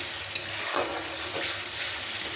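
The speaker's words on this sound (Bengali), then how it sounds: "হলুদ, জিরে গুঁড়ো সব কিছু দিয়ে দিয়েছি, গোলমরিচ গুঁড়ো, ধনে গুঁড়ো, কাশ্মীরি লঙ্কা গুঁড়ো দিয়ে মশলাটাকে ভালো করে কষিয়ে নিচ্ছি।" Spice masala of turmeric, cumin, black pepper, coriander and Kashmiri chili powder sautéed in a pan, a steady close sizzle with soft stirring scrapes running throughout, no voices.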